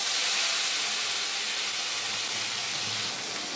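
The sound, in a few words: onion paste frying in oil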